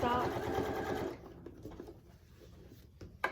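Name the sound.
sewing machine sewing down a quilted Christmas stocking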